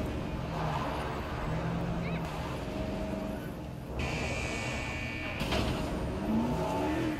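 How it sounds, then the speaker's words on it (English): A Jeep engine in the video game Jurassic World: Evolution hums and shifts pitch as it drives, a steady motor drone under game ambience with a few synthetic tones and chirps. "I love driving this Jeep."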